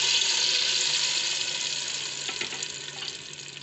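Onion-tomato paste frying in hot oil in a pressure cooker gives a steady, loud broadband sizzle close up, easing slightly over a few seconds, with faint stirring scrapes and no talk.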